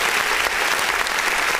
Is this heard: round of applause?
yes